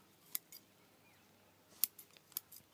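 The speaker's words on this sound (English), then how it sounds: "Let's trim the roots." Scissors snip at the roots of a fig bonsai tree, a few sharp, quiet clicks and crisp cuts spaced unevenly in otherwise near-silent surroundings.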